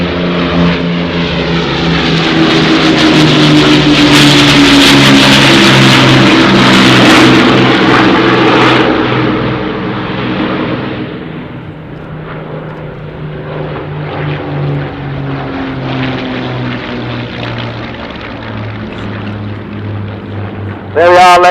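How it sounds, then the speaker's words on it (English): An Avro Lancaster B1 bomber, PA474, with its Merlin engines, passes low and loud at the Dunsfold Wings and Wheels 2018 airshow, with fighters following, a sustained propeller roar rising then fading as it goes by, with a commentator talking over it. "now as we have the Lancaster coming past, we see the fighters coming in behind to join up"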